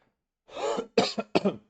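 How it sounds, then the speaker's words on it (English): A person coughs three times in quick succession, close and fairly loud, with a throat-clearing quality and short pauses between bursts. "I apologize for the coughing if it's loud in someone's headphones"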